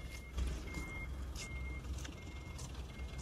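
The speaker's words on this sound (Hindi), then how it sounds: "ये गाड़ी पीछे कर रहा है" A truck's reversing alarm beeps in a repeating pattern, moderately distant, over a low engine rumble and street noise with a brief air-brake hiss.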